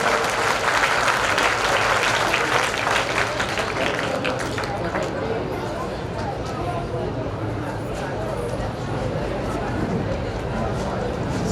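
Ceremony audience applause fills the room, strong sustained clapping that gradually softens, with a voice and some chatter underneath.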